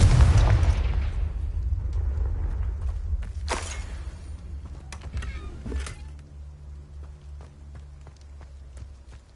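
A Confringo spell goes off in Hogwarts Legacy as a loud, close, deep burst with a rumbling low boom. A few sharp cracks and impacts follow, then a fading rumble.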